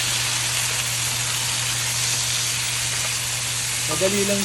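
Tomatoes go into a hot frying pan for a fish dish in fermented black bean sauce, giving a steady, loud sizzle and fry hiss throughout with a faint stir near the end.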